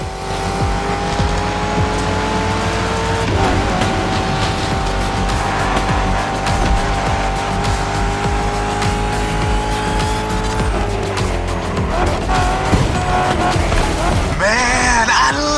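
A muscle car in the racing game The Crew Motorfest roars loudly and steadily, with its engine pitch rising and falling and its tires squealing repeatedly through skids.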